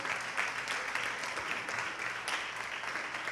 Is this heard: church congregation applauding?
yes